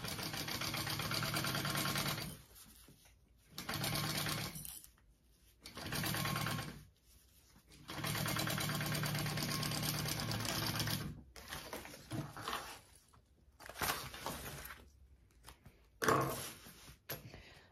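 Sewing machine basting the lining of a fabric handbag, stitching in steady whirring bursts of a few seconds each with short pauses between, fairly close.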